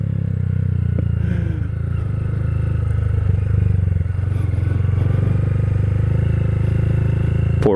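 A 2022 Honda Grom motorcycle being ridden, its small engine droning steadily and loud throughout at a near-constant pitch, with faint clatter on top.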